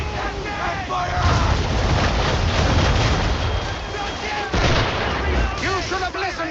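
Rapid cannon fire from a warship in battle, heavy booms and rumbling blasts piling up continuously at close range, with shouted voices and dense battle noise running throughout.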